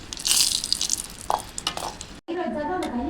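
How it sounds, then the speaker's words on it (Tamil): Dried chillies roast in a pan for Sri Lankan sambal, giving a crackling sizzle with scraping stirs. The sound cuts briefly, then returns as a softer, steadier frying hiss. "மிளகா வறுத்து எடுத்துக்கலாங்க"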